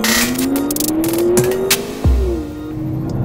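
A McLaren 12C Spider sports car engine revs loudly and close, pitch climbing steadily before dropping sharply, with a brief thump and lower engine note following.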